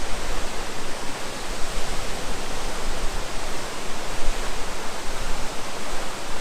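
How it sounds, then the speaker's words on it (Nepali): A powerful waterfall in Manang thunders in a constant, loud, unbroken roar of rushing water with no other sounds standing out. "कस्तो भयो झरना एकदम खतरा दामी छ"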